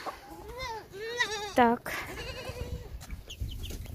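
A goat bleats on a farm while being grazed, its wavering cry rising clearly at close range, with chickens nearby and a person talking over and around it.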